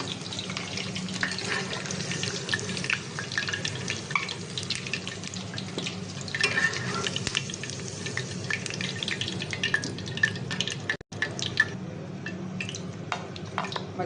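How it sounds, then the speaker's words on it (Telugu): Chicken manchurian pieces fry in oil in a continuous dense sizzling hiss that stays close and steady for the whole stretch, with brief crackles and a momentary drop partway through. "చికెన్ ఒక్కొక్కటిగా వేసుకొని వేయించుకోవాలి."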